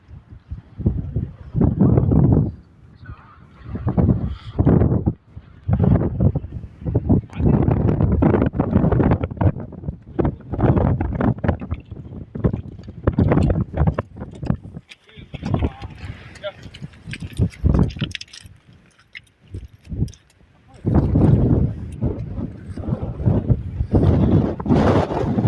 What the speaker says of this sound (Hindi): हवा जो बहुत तेज़ हवा चल रही है